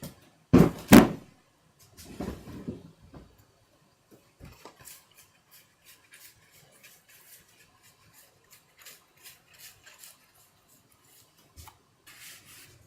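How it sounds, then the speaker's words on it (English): A drawer is pulled open in an engraver's workspace to take out a brush, starting with a couple of loud sliding knocks followed by faint rummaging clicks and rustles. "Reach into the drawer and pull out another brush."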